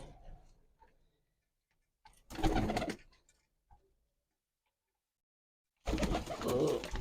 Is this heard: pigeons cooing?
yes